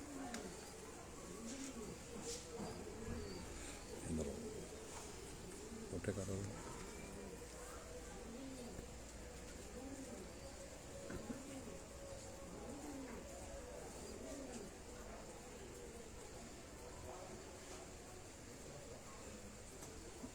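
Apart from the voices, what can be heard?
pigeon from Sialkot cooing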